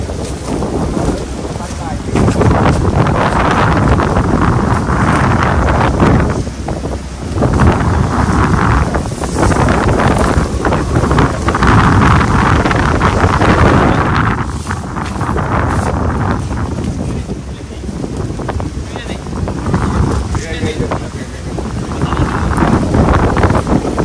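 Strong sea wind roars and buffets the microphone nonstop aboard a small boat in open water near an island. It sounds loud and close, with faint voices barely audible beneath the gusts.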